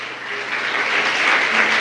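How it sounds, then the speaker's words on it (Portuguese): A church congregation applauds in praise, a dense steady wash of clapping that swells slightly over its short span, close and fairly loud with no one speaking over it. "Aplauda ao Senhor se você crê nisso."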